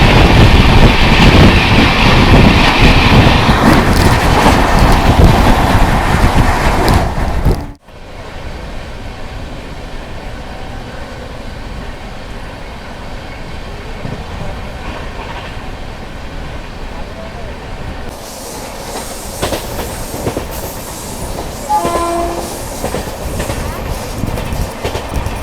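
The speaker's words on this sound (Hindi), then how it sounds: "ट्रेन नंबर 12803 स्वर्ण जयंती एक्सप्रेस।" Swarna Jayanti Express passing close by, a loud rolling rush of wheels and cars that abruptly drops to a quieter rumble and clatter, with a brief tonal horn-like note near the end.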